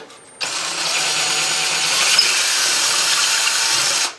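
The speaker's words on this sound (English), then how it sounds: "What you would do is just drill a small hole," Power drill boring a small hole into a drywall wall, kicking in abruptly and whining steadily at close range for several seconds before stopping, with no voices.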